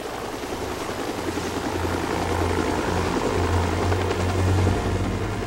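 A medical helicopter taking off with a loud, steady, close rotor thrum and engine whine that builds gradually, with no voices.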